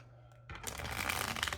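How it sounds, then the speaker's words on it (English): A deck of cards is shuffled, a brief soft start followed by a rapid riffling flutter of cards snapping together, close and fairly quiet. "One more shuffle."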